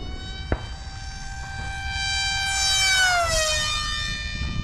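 A 2022 Flex Innovations Piranha PNP RC jet whines overhead, a steady harmonic tone that grows louder and drops sharply in pitch as it sweeps past, with no voices.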